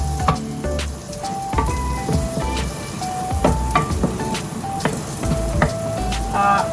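Steady sizzling of garlic and champignon mushrooms stir-frying in a hot pan, with scraping and clattering from a spatula throughout.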